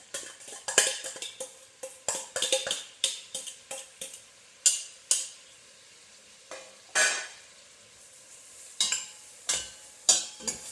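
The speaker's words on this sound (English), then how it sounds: "Mix them all in with the spices and make sure the onions are all covered in oil" Onions fried in oil with spices crackle and hiss while a spoon stirs them, sending repeated bursts of scraping and sizzling at an uneven rhythm, close and clear, with no one speaking.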